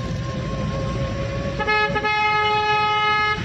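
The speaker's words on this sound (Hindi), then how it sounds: "लंबा हॉर्न दीजिए।" A car horn sounds during a driving lesson, starting softly and then blaring as a long, loud, steady honk that lasts for the second half of the clip, close by, with no talking over it.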